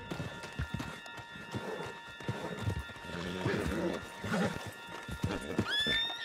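A horse in a video game whinnies and its hooves clip-clop at a trot under game speech, with the neigh rising clearly near the end.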